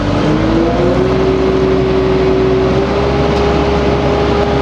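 Gianni Ferrari catching mower engine running at 2000 RPM, a loud, close, continuous drone with a steady pitch throughout and no talk.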